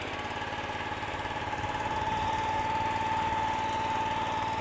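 A Greensmaster reel mower engine pulling uphill on a sloped lawn with more throttle: a steady, close mid-pitched running drone with a faint whine, rising slightly and holding throughout.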